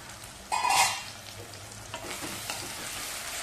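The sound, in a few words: stirring tomatoes frying in a pan for aloo methi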